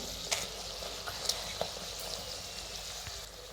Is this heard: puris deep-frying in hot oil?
yes